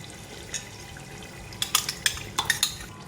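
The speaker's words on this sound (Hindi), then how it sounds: "दही डालूँगी मैं।" Yogurt is stirred into masala in a cooking pot, with a spoon scraping and clinking against the metal in a quick cluster of sharp taps over a low sizzle, close up and without speech.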